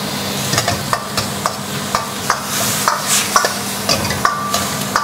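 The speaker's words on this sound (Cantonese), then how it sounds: "我哋就先炒咗啲豬肉先啦。 盡量都係大火炒噶啦" Pork stir-fried in a wok over high heat, a steady loud sizzle broken by regular scrapes and clinks of the spatula tossing the meat, close and continuous with no talking.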